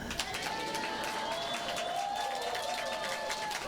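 A church congregation at a Sunday worship service claps together in sustained applause, mixed with cheering voices in a reverberant hall, steady and moderately loud throughout.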